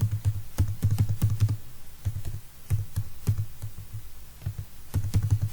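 Steady typing on a computer keyboard while writing a C function definition, crisp individual key taps in irregular runs with brief pauses, close-up over a low constant hum.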